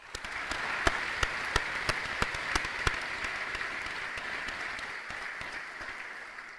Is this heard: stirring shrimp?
no